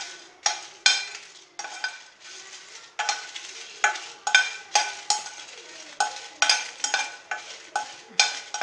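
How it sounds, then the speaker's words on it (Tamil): Whole spices are dry-roasted in a pan for chicken masala powder. A utensil scrapes them in a steady run of close, brisk stirring strokes, with no talking. "லைட்டாக பதமாக லைட்டாக வறுத்து எடுத்துக்கணும்."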